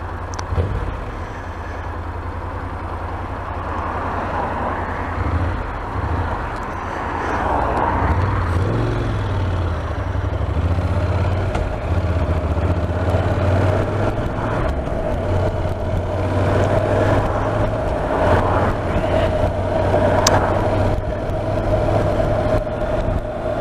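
A motorbike rides along Walsall Road with a steady low engine rumble and rushing wind noise. The sound stays constant and close throughout, with no talk.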